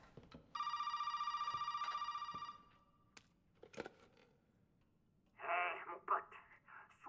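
A telephone rings with a bright, steady electronic trill for about two seconds in the Resident Evil 7 horror game, followed by scattered clicks and a short burst of speech.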